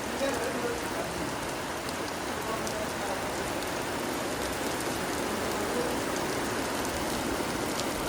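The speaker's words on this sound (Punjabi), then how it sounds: "ਚੱਲਦੇ ਚੱਲਦੇ ਕੰਮ 'ਚ ਮੀਂਹ ਆ ਗਿਆ" Heavy rain pours down steadily on a tent at a Teej fair, a dense, even hiss of drops filling the whole stretch without pause.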